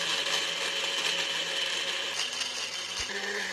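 A kitchen mixer grinds onion, tomato, dried chilli and kasuri methi into a paste with a steady, fairly quiet whirring drone and a faint mechanical hum, and a brief knock near the end.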